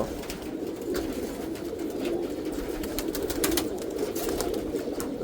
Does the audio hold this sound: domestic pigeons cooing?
yes